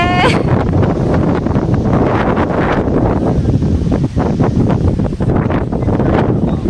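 Strong wind on a rooftop buffets the microphone in loud, continuous gusts, roaring and rumbling throughout with no pauses.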